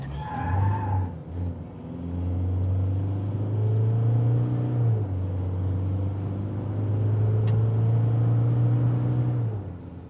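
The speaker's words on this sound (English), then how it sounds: "let's see what the D-Max can do. Keep the revs up to as much as we can, and then go!" A 2021 Isuzu D-Max 3.0L 4x4 pickup truck engine revs hard and pulls away at full throttle, its loud drone rising and shifting through gears for several seconds.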